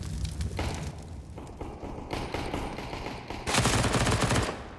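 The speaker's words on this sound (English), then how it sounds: "Don't let them come to that sort of range where those Glocks can really do damage." Glock pistol gunfire in a Counter-Strike match on the Mirage map, heard as dense rapid shots overlapping with other weapons, loud and continuous with a heavier burst near the end.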